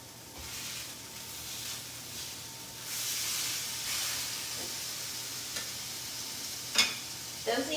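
Turkey burgers sizzle in a frying pan with a steady, soft frying hiss that swells in the middle, and a few sharp pops and a scrape come near the end.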